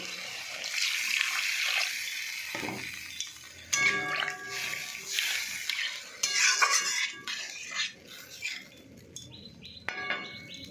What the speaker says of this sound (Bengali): তো বন্ধুরা, আমি এবার জল ঢেলে দেবো।